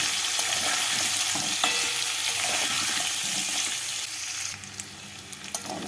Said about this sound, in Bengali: আলুগুলোকে তেলের মধ্যে হালকা লাল করে ভেজে নিচ্ছি